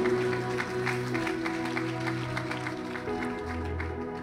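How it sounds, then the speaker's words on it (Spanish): A church congregation applauds during a sermon, scattered hand claps over sustained organ or keyboard tones and a low hum, moderately loud and continuous. "Dale aplausos a la presencia del Señor."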